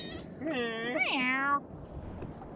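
A pet cat meows aboard a sailboat at anchor, giving one drawn-out rising and falling meow, close and clear, over soft background noise.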